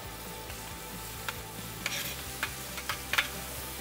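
Pork cooking in a little olive oil in a frying pan gives a steady, soft sizzle throughout, with occasional sharper pops and crackles standing out near the end.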